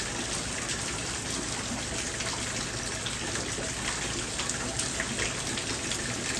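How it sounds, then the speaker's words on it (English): Heavy rain pours steadily over a garden where small rain drums sit below, a dense, even hiss of falling water close by that holds without a break for the whole stretch. "It's raining."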